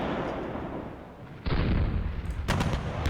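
Artillery fire from 10cm K18 guns in the Panzer Campaigns wargame: a sustained rumbling barrage that swells sharply partway through, with a further burst of crackling impacts near the end, loud and without speech.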